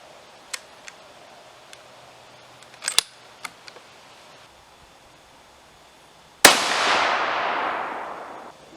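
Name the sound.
gunshot from a Howa rifle with 68gn Hornady BTHP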